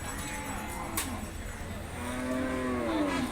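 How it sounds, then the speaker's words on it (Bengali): A large buffalo at a Qurbani cattle market gives a drawn-out, rising moo near the end, loud and close, over a steady hum of crowd noise and background market activity. "দর্শক দেখতে পাচ্ছেন বিশাল আকৃতির একটা মহিষ"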